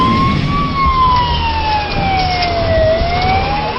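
Police car siren during a chase in Hørsholm/Kokkedal, a loud continuous wailing tone sweeping slowly up and down over road and engine noise, no talk.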